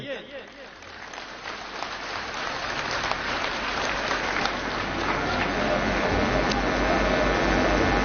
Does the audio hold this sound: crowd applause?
yes